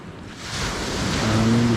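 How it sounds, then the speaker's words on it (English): Ocean waves wash onto Palolem Beach in Goa, a steady broad roar of surf that swells gradually louder, with some wind buffeting the microphone and no talking. "you can see it's a nice, awesome, lovely beach"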